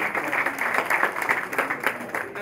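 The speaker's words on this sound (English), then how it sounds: "a round of applause for Dr." An audience at a book launch event in Washington gives a round of applause, a dense, steady patter of many hands clapping together, fairly close and continuous throughout.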